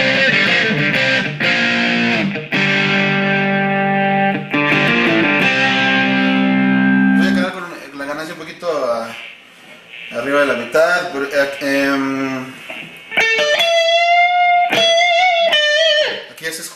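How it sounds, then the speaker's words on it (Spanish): Electric guitar through the crunch channel of a Blackstar ID Core 10 amp, with gain just above halfway, gives sustained distorted chords and then single-note lines, loud and close, with a voice talking briefly in between. "aquí ya se escucha el canal crunch con un poquito más de distorsión"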